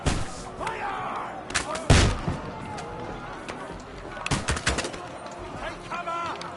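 Soldiers fire a musket volley in Kingdom Come Deliverance II, loud cracking shots and booming blasts in bursts amid battle clamor, with shouting voices mixed in.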